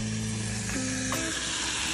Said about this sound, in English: now that it's got some sizzle on it,